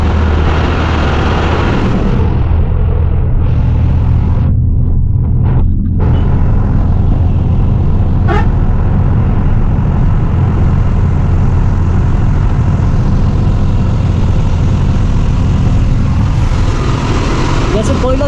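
A car drives slowly along a hilly mountain road, a steady, loud low rumble of engine and tyres filling the cabin with little change.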